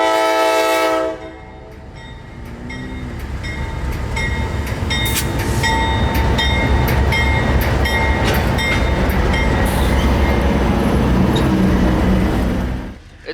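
A freight train led by ST70 locomotives passes near Lakeland Junction in Florida with a loud horn blast at the start, then a long, steady roar and clatter of wagons that stays close and loud until it fades at the end.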